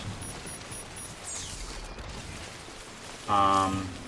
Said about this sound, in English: Rain's not bad enough.